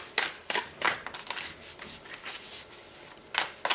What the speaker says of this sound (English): I will be shuffling and picking cards as I go on.